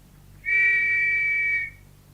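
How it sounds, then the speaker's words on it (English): A single referee-style whistle blown once in a steady, loud, sustained blast of about a second, standing alone against a quiet room with no voices. "I shall blow the whistle once more"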